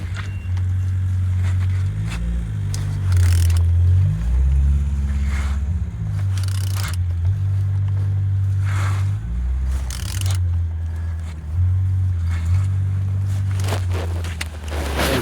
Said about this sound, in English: Turning engine